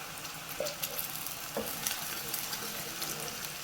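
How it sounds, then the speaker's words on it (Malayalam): Spinach paste sizzles and sautés in a pan with softened onion and chilli, a steady frying hiss broken by a few soft scrapes of a stirring spoon, close and fairly quiet. "ഇതിന് നല്ലതുപോലെ ഇളക്കി നമുക്ക് ഒന്ന് വഴറ്റിയെടുക്കണം"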